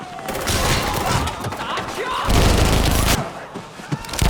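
Rapid bursts of film gunfire in a chase and shootout, loud and dense, with heavy crashing impacts and booms piling up before a quieter tail.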